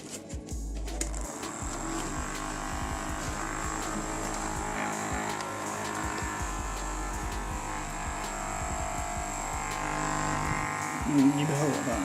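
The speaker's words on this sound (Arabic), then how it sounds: "مروحة اهي." Small homemade electric fan powered through a simple improvised connection, giving a steady close motor buzz with a constant high whine that runs throughout under faint handling noises.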